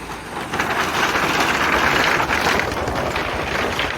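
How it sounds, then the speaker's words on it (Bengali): A motorcycle crosses a bamboo bridge over the Churni river, loud rattling, creaking and crunching of the bamboo deck building and holding steady under a windy rush. "এই দেখুন মোটরসাইকেল কীভাবে আসছে দেখুন"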